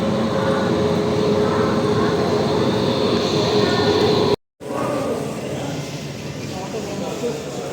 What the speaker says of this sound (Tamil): டி நகருக்கு ரயில்வே ஸ்டேஷனில் உட்காந்துருக்கோம்